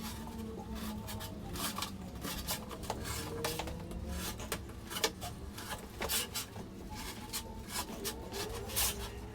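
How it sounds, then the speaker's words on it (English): A knife scrapes and rubs as it cuts through a return air filter against its frame, with a soft, uneven scratching texture up close and fairly quiet. "So we're just going to cut against the frame, making sure your thumb's out the way, but cutting it just above the rubber into the frame."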